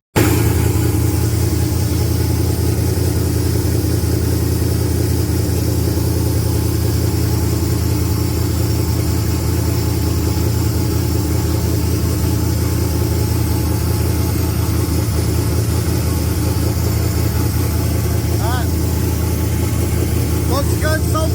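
A GM LS V8 running a Haltech Rebel LS ECU with an E85 sensor idles steadily and loudly up close, a constant low engine rumble, with people talking over it.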